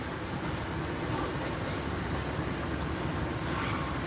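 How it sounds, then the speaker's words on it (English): Steady rumble of an Amtrak train in motion, heard from inside the dining car: a continuous low, even roar with broadband rattle and hiss, no voices standing out. "here is the Amtrak train, and I am on it right now"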